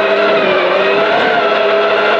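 Rally car at the Tauragės rally pulling away from the start, its engine roaring loud and steady from inside the cabin, a continuous high-revving drone with no pauses.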